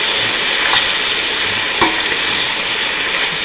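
Shrimp and chicken stir fry with vegetables being stirred in a hot pan, a loud steady sizzle filling the whole clip, with brief scraping strokes of the utensil close by.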